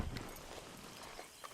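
Horse hooves clip-clop at a steady walking pace in Red Dead Redemption 2, soft and moderately close, a faint even rhythm of hoofbeats with no talking.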